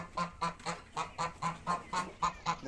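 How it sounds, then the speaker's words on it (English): Geese honking on a poultry farm, about ten evenly spaced, loud nasal honks in a steady rhythm, close by and with no talk over them. "We have goose here."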